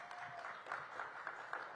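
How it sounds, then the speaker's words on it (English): Applause from a gathered crowd at a police Air Support Unit event, a steady wash of clapping that is moderately distant and fairly quiet, with no talking over it. "Please give them a big round of applause."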